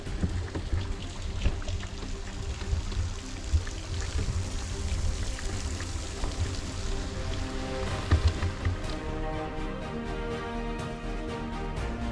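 Broad, steady rush of river water flowing at a wide, gentle stretch in the Sant Bartomeu valley, a continuous close wash with no talk over it.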